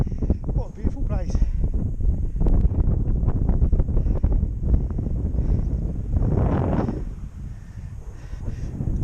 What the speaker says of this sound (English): Quite windy today though,